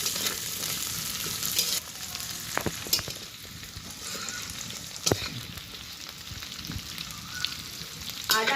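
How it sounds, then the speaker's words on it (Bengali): Ginger and garlic fry with onions in a pan for a chicken kosha, giving a continuous sizzle broken by occasional sharp stirring knocks and scrapes, close up with no voices. "এবার আদা রসুনটাকে আর একটু ভালো করে পেঁয়াজের সাথে ভেজে নিই।"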